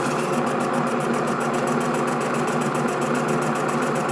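A vibrating gem faceting lap machine runs with a steady mechanical drone and a rapid rhythmic buzzing pulse, loud and continuous, without speech.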